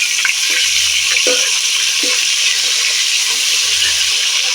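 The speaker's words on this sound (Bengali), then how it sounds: "হয়ে গেছে আর দিকটা মাছটা আমি উল্টে দেবো" Fish being flipped and fried in hot oil in a wok: a constant loud sizzle, with a few soft low knocks from the turning as it spits on.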